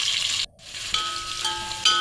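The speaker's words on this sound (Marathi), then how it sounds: "कांदा चांगला खरपूस भाजून घेतलेला आहे." Onion frying in a hot pot with a mustard-seed and curry-leaf tempering: a bright, steady sizzle that drops out briefly near the start, then comes back with light crackles and stirring.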